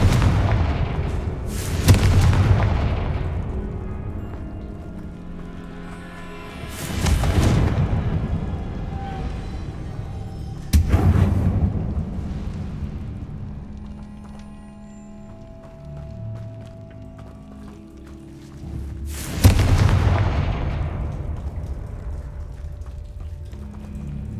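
Four booming Confringo spell explosions in the Hogwarts Legacy video game, each a loud deep blast with a long rumbling decay, spaced several seconds apart over quieter game ambience.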